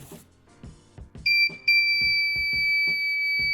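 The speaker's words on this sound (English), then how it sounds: "the sensor starts to detect an object getting closer and causes the buzzer to ring" An electronic buzzer, triggered by an ultrasonic sensor detecting an approaching object, sounds a steady high-pitched tone that keeps going, with soft rhythmic thumps and clicks under it and no talking.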